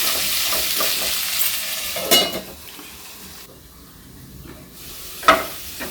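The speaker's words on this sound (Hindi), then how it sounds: "तीन 4 मिनट हम इसको मीडियम आंच पर भूनेंगे। ऐसे हम बीच बीच में चलाते रहेंगे बस।" Potatoes sizzle in hot oil in a kadai over medium heat while being stirred, a steady close frying hiss broken by a few sharp scraping bursts.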